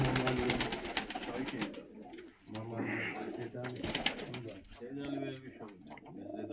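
Fighting pigeons coo in low, rolling repeated calls close by in a dovecote in Sartichala, Georgia, with someone talking in Russian over them and some rustling in the background.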